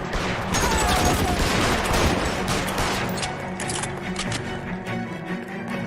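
Bursts of rapid gunfire from the video game L.A. Noire crackle and pop in dense volleys, loud and busy at first, then thinning to scattered shots.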